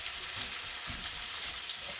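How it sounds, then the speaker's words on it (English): Almonds, butter, garlic and lemon juice sizzle steadily in a hot pan while being stirred, a continuous close crackle with soft scraping movement and no talking. "squeeze the lemon into the almond, butter, garlic. Give this a quick stir."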